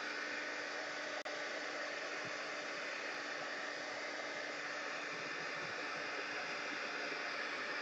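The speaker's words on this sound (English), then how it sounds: "I'm just drying it with a heat gun" Steady, close hiss and whoosh of a heat gun drying ink on a mixed-media art piece, running unbroken for about eight seconds with a single sharp click near the start.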